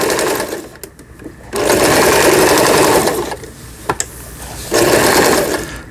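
A Lion Pro Indigo household sewing machine stitches in loud, close, whirring runs. Two long buzzing bursts are separated by quieter pauses with a couple of mechanical clicks, and no one speaks.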